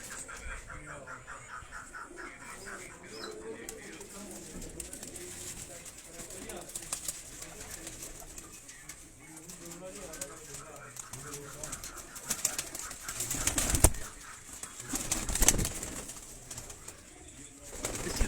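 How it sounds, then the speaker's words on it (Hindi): Tunia pigeons cooing with bursts of wing flapping, soft and continuous beneath a hissy background, with a couple of louder flutters near the end. "ये वो टुनिया कबूतर जिसका मैं आपको शौक करवा रहा था"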